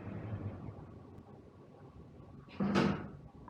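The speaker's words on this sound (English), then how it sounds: "The door is closing." An automatic door on a JCD self-cleaning public toilet in San Francisco slides shut with one loud, close, broad rushing thud near the end, after a few seconds of low, steady background noise.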